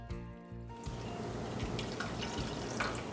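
Water pours and trickles into a gravy pan of flour-coated meat and milk, a soft continuous liquid stream with faint drips, following a brief low hum at the start.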